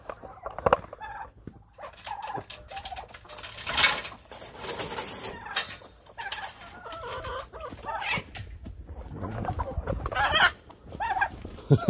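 A flock of farm birds clucks and squawks nearby, with overlapping calls and a few louder outbursts, continuing throughout.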